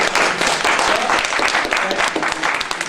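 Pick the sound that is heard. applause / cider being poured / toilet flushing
applause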